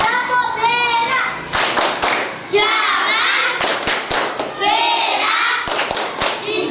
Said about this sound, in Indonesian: sekarang saya akan mengajari caranya tepuk-tepuk, terus seperti nyanyian ya